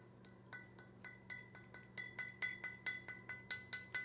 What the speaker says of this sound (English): Listen to the difference in the glass sound.